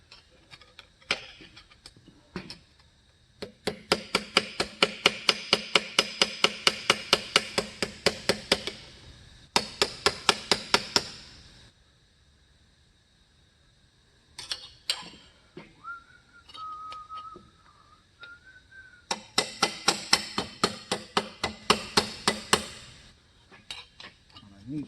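Rapid metal hammering on aluminum ear flaps for a replica Aliens USCM armor build, coming in dense bursts of quick, ringing taps with pauses between, close and loud, with a brief faint whistle-like tone in one gap.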